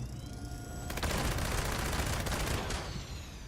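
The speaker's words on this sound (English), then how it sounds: "This right here is a pretty sharp-firing, fast-firing, accurate, heavy weapon. The Gauss minigun" A Gauss minigun fires in the video game Fallout 76, a dense, rapid stream of loud shots that starts abruptly and continues for about two seconds before cutting off, following a stretch of game ambience.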